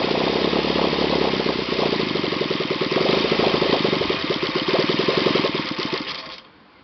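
An OS FT 120 Gemini twin-cylinder model engine runs loud and close on its first run, a rough buzzing beat that holds steady before sputtering out near the end as the fuel runs dry.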